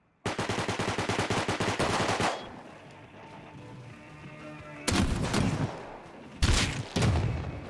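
Automatic rifle fire in the survival game Rust: a loud rapid burst of evenly spaced shots, a quieter lull, then two more short heavy bursts, close and sharp.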